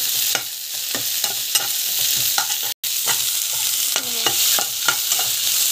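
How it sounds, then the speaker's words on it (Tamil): Dried red chillies sauteed with garlic and coconut in a hot pan: a loud, steady sizzle broken by repeated scraping stir strokes of a spoon against the pan, with one brief dropout and no talking. "காஞ்ச மிளகா நல்லா வந்து வதக்கிக்கலாம்."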